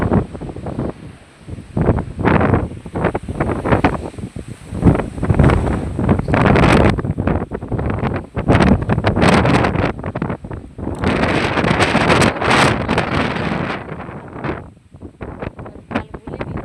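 Strong gusty wind during a rainstorm in a village roars and buffets the microphone in loud, continuous surges, with rustling and rain noise mixed in.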